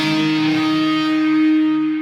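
A synthesizer patch imitating an electric guitar lead plays a single sustained, bright, buzzy note with steady harmonics, held for about two seconds alone.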